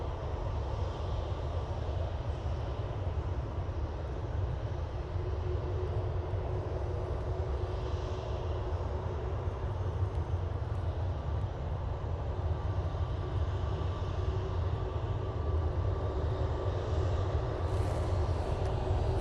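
Jet airliner touching down on a runway with its nose held high, a steady, continuous engine roar and rumble sustained throughout at moderate distance, with no voices.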